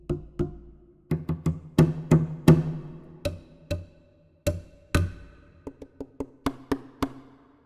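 Percussion samples struck with the palm and the base of the fist give a run of dull, thumping hits in an irregular rhythm, some clustered closely and some spaced apart, dry and close with no talking.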